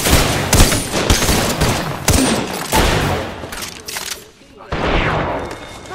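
Rapid bursts of automatic gunfire in the Apex Legends battle royale shooter, loud and close, come in repeated volleys with brief gaps and a short lull near the end before firing resumes.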